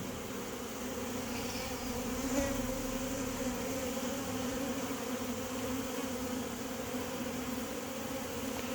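A swarm of honey bees drones around a hive, a continuous, fairly faint buzz of many wings holding steady throughout.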